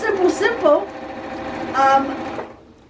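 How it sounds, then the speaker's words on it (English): Sewing machine stitching quilt binding, a quiet steady whir running beneath a person speaking, fading out after about two and a half seconds. "I sew my binding to the back, I turn it over, and I stitch it down to the front."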